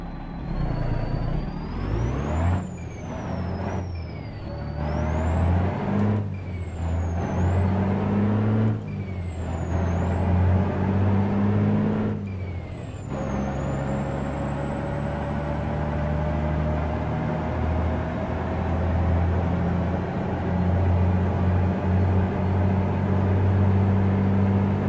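A custom Peterbilt truck in American Truck Simulator revs through gear changes with rising and falling engine tones and air-brake hisses, then settles into a steady, loud drone as it pulls away.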